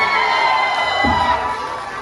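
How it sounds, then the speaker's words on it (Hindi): Crowd cheering and whooping at a nursing college lamp lighting and oath taking ceremony, a loud continuous roar of voices with shouts rising briefly near the middle, no clear clapping. "Please give a huge round of applause for Krishna and Mittu."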